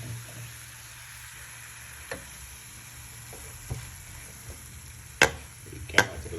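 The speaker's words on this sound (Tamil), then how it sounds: "கொஞ்சம் இஞ்சி பூண்டு பேஸ்ட்டு போட்டுங்க நல்லாயிருக்கும் டேஸ்ட்டுக்கு நல்லாயிருக்கும் நல்லா போட்டு லைட்டாக ஒன்று வதக்கிங்க" Ginger garlic paste sizzles softly in a pan for tuna fish gravy, a faint steady frying hiss broken by a few sharp clicks and scrapes of stirring near the end.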